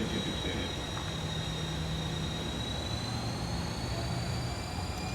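Classic airliner engines in a flight simulator game hold a steady, even roar at takeoff power with a high whine on top, running continuously and alone.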